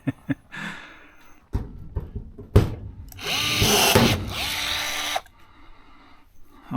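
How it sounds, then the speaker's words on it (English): Rivet puller working on airplane wing skins, with short sharp pneumatic bursts and snaps, one longer hissing pull in the middle, close and loud against a quiet workshop. "It feels good to be able to pull some rivets."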